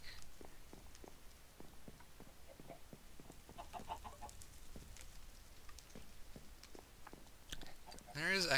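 Minecraft chickens cluck softly in short, scattered bursts against a quiet game background, with a louder flurry of clucking near the end.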